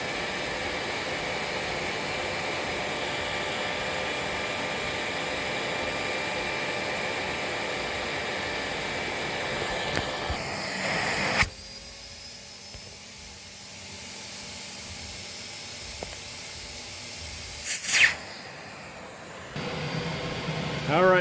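A Lindhaus HF6 vacuum cleaner, fitted with a borrowed wand and power nozzle, roars with a steady, loud airflow hiss and whine for about eleven seconds, then cuts out. A few short bursts and clunks follow in the quieter stretch.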